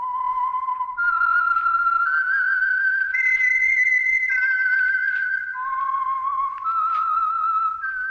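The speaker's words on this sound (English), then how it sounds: "That whistle is your signal for the Signal Oil Program" Whistled theme signal of The Whistler, an old-time radio mystery program sponsored by Signal Oil: a single clear, close melodic whistle gliding through a series of sustained rising and falling notes, alone without talk.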